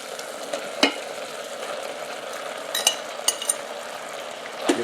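Chuck roast being stirred in an Instant Pot after sautéing, a soft sizzle running throughout with a few sharp utensil clinks against the pot, close and alone with no talking.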